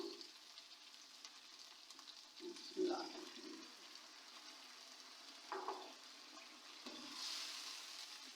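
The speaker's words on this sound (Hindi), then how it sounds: "अब मैं इसमें डालूंगी थोड़ा सा पानी" Water is poured into beef mince and peas frying in a pan, a faint wet sizzle and splash with a few louder spurts over a soft background hiss, quiet and close.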